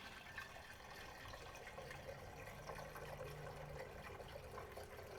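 Coolant poured into the cooling system of an MK1 VW Rabbit with a swapped 1.9L TDI engine, a steady quiet trickling and gurgling of liquid running on without pause.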